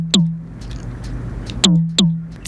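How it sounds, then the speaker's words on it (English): Synthesized FM percussion: three sharp, non-specific drum hits, each a bright click that drops quickly into a short pitched thump. The first hit lands alone and the next two come close together, over a low steady hum. "making non-specific drum sounds like this with FM"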